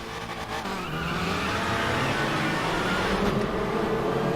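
TCR touring race cars launch off the line at a race start in RaceRoom, a dense roar of several engines revving hard together, loud and close, building steadily over a few seconds.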